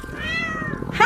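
A cat meows in a long, drawn-out tone, followed by a brighter, higher second meow right at the end, close by.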